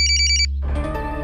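A telephone rings in short rapid electronic trills, loud and close, then stops abruptly and gives way to a low background tone.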